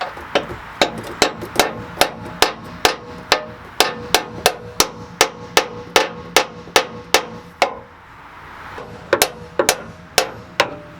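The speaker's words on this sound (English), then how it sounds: "Now I might have reamed that enough that we could hammer it in." Steady, sharp metallic hammer blows, about two per second, driving a bolt into a reamed hole during a lift install on a 2019 Cummins truck, with a brief pause before the strikes resume; close and loud.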